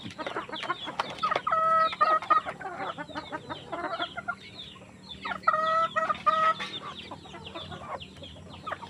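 Chickens cluck and squawk in a busy, overlapping chorus nearby, with a couple of louder drawn-out calls rising above the steady clucking.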